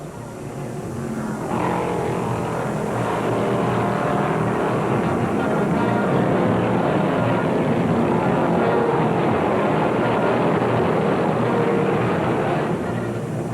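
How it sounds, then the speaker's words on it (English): A Dodge Charger NASCAR race car with a Hemi engine roars down the front straight of a track, a loud sustained high-revving drone that builds in and holds steady over the whole stretch. "Elder's Dodge, number 96, looks and sounds stronger on every lap as he screams down the front chute for the white flag"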